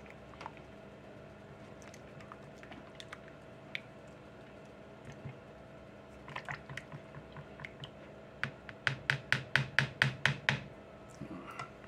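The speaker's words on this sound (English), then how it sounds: "And I'm sloshing stuff all over the place." A sweetened condensed milk mixture with vanilla being whisked and sloshed in a bowl, quiet scattered wet clicks early that build into a fast run of sharp, rhythmic whisk strokes near the end, with no talking.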